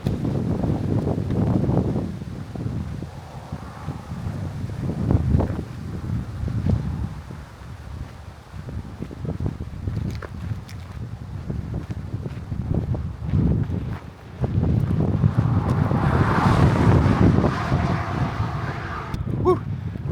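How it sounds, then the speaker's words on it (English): Strong wind buffets the microphone in heavy gusts on a highway road walk along Minnesota's Superior Hiking Trail, rising and falling with a low roar and rustle, loud and close throughout. "It is really windy and cold out here on the road."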